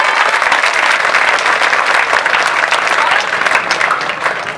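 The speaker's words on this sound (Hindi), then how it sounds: "जोरदार ताली प्रेम भाई के लिए बजाओ" A live audience at a Hindi comedy show claps loudly for Prem bhai, a thick, sustained burst of close applause that stays strong throughout and eases slightly at the end.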